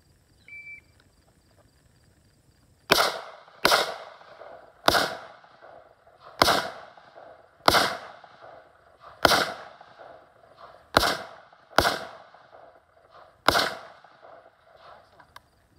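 Gunfire on a shooting course during weapons training: roughly ten loud, sharp shots at uneven intervals, each ringing out briefly, after a few seconds of near quiet.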